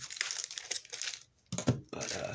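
Plastic packaging from a Bakugan Evolutions Ventus Platinum Warrior Whale toy crinkles and tears in close, loud bursts with brief pauses, while a voice talks alongside.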